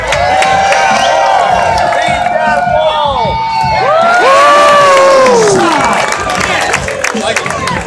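A lively crowd cheers and whoops for a man tackling an obstacle course at a men's conference, with loud shouts and rising yells throughout, swelling midway.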